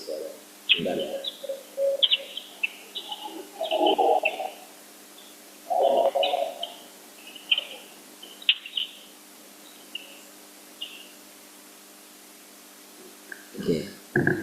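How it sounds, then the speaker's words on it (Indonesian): Several birds chirp and coo outside, scattered short calls at irregular intervals, moderately close and heard on their own against a quiet background. "Burung di luar jadi masuk suara"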